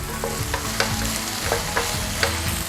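Seafood bell pepper sauce stirred in a pan over heat, a close, continuous sizzle broken by repeated scraping strokes of the spoon at a steady rhythm.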